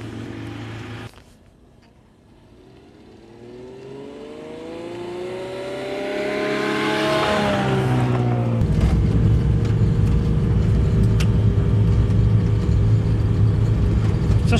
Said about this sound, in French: Ça sort bien sur la neige ces voitures